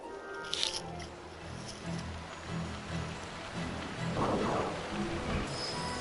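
Steady rain falls in the video game Final Fantasy 12, a broad continuous hiss with a low rumbling bed beneath, holding level throughout with a brief louder splash midway.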